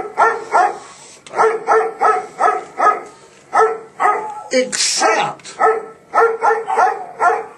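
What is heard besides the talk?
dog barking during podcast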